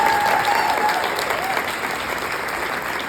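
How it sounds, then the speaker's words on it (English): At the opening keynote of the Kansas Prevention Collaborative Conference, an audience claps: a full, close round of applause that starts strong and slowly tapers off, with no voices over it. "Let's give Jasmine a round of applause."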